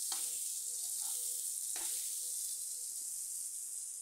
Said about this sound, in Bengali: লবণ হলুদ দিয়ে আলু কিছুক্ষণ ভেজে নেব।